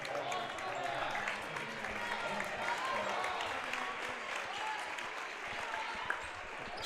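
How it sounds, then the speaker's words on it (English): Crowd applause fills a gym at a Strasburg-Franklin Tigers vs. Carrollton Warriors girls' basketball game, steady clapping and cheering throughout with a faint commentator voice underneath. "Secrest gets a round of applause as well as she checks out"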